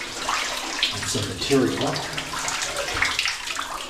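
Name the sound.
water flowing over a small dam in an abandoned copper mine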